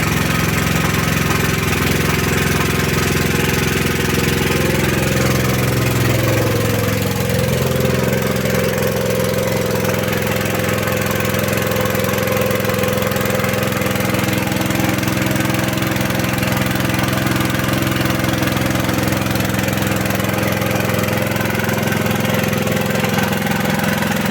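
The engine of a homemade universal land-working platform revs up gradually from idle, a loud, continuous mechanical drone that rises in pitch and holds steady, close by with no talk.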